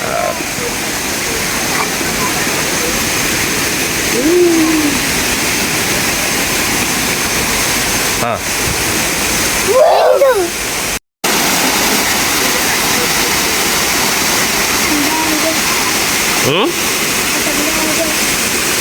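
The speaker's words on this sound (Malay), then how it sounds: "Betul sini air terjun dia lah." A waterfall at Lata Perahu campsite, beside a small pool, roars as a loud, steady broadband rush throughout, with brief murmured voices and a short dropout midway.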